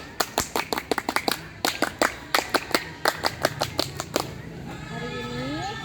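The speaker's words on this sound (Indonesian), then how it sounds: "2 kali tepuk pramuka" A scout group performs the tepuk pramuka clap at an outdoor Scout leadership course, repeating it twice: crisp, loud hand claps in quick rhythmic patterns, followed by a short stretch with people talking.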